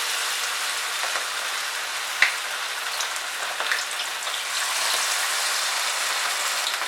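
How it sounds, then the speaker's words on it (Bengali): Chicken pieces frying in hot oil over a medium flame, a dense steady crackle and sizzle like rain, continuous and close with a few brief pops. "মিডিয়াম ফ্লেমে রেখেই আমরা এটাকে ফ্রাই করব"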